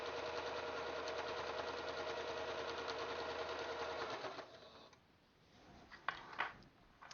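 A sewing machine stitches binding onto a quilt in a steady, fast, even whir for about four seconds, then stops, leaving a quiet room with a few faint clicks and knocks.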